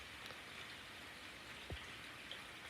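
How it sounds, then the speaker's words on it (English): Steady rain pours down during a rainstorm, a dense, even hiss of drops with a few faint thuds, heard alone without voices. "Why is it still raining then?"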